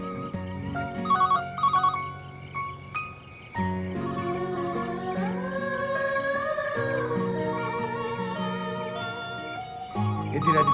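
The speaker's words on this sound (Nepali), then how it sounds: "कसले फोन गर्यो होला" An incoming call sets off a mobile phone ringtone, a bright repeating electronic melody that plays steadily and fairly loud for about ten seconds with no voices over it.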